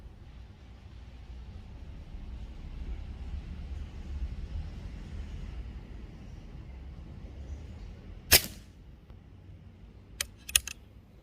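An unregulated Artemis PR900 PCP air rifle fires one sharp crack, then two more quick snaps a couple of seconds later, all heard over a steady low outdoor rumble.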